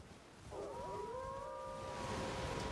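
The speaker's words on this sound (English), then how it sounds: "The howling of the wolves." Wolves howl in the dark fantasy game Elden Ring Nightreign, a long rising and wavering howl joined by a second voice, drawn out over a quiet ambient background.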